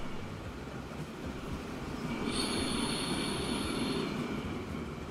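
An ore train rolls past in Transport Fever 2, a steady loud rumble of railroad cars with high wheel squeal rising in the middle and holding for a couple of seconds before fading.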